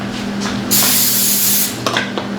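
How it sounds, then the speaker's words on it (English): A can of cooking spray hisses in one steady burst of about a second while coating a glass baking pan, close and loud, with faint kitchen handling noises on either side. "I'm gonna go get my spray and spray it."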